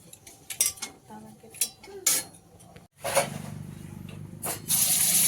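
Food is stirred in a kadai with several sharp metal clinks and scrapes of a spoon against the pot, followed by a rising sizzle, close by, with no voices.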